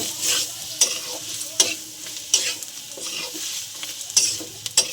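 Chicken and ground spices (coriander, cumin, turmeric, red chilli) sizzle and fry in a pan as a spatula stirs and scrapes, steady hiss with sharp periodic knocks up close, no voices.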